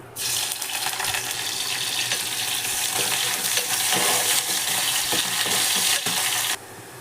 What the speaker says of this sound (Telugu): ఆయిల్ వేసుకొని పోపు గింజలు వేసుకొని ఆనియన్స్ వేసుకుందాం.